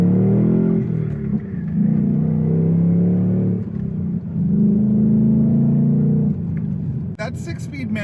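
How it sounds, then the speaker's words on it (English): 2024 Ford Mustang GT Convertible with V8 and six-speed manual, its exhaust giving a deep, steady rumble that swells into revs, loud and close throughout the clip. "I would buy this thing just for the exhaust sound alone."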